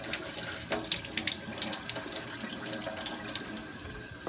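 A kitchen tap runs steadily into a sink while potatoes are washed under it, a close, continuous splashing stream with small fluctuations and no speech.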